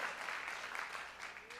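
A church congregation applauds during a worship service, a steady wash of clapping from many hands throughout.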